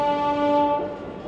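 Lucknow double decker train pulling out of a station, a loud sustained horn-like tonal blast dominating the start, fading after about a second into steady rolling rail noise.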